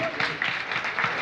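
Crowd applause welcoming a chief guest at a computer institute skills-program ceremony, steady clapping from an audience throughout.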